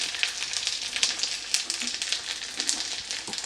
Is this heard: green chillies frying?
yes